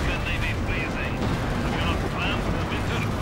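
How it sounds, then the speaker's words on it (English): Dense Company of Heroes 2 tank battle with Panthers advancing on Soviet T-34s and an IS-2: continuous loud gunfire and rumbling explosions fill the whole stretch, with a voice commentating over it. "So many tanks just bursting into flames as the Panthers advance."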